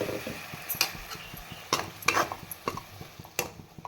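Palak gravy cooks in a pan while a utensil stirs and taps against the metal, giving a faint bubbling sizzle under irregular scraping and clinking, close and without talking.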